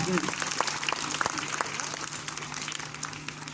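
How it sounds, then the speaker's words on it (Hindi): Students and audience at a school Republic Day gathering clap for their teachers, a moderate, somewhat distant applause with a few sharper individual claps, fading gradually. "उनके लिए जोरदार तालियां बजाएं"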